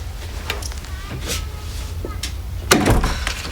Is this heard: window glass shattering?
no